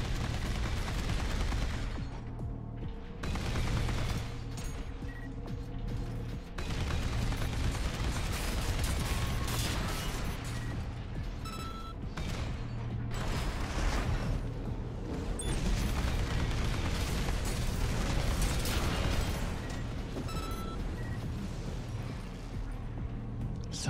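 Sustained rapid weapon fire from a right-hand mech weapon in Armored Core VI, a dense rattling burst of mechanical shots running nearly continuously at steady loudness, with brief gaps between volleys over a layered game soundscape.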